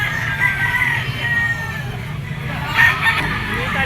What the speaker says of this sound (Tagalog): isang Henny mga tol na yellow legged stag